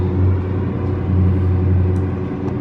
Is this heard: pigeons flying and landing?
no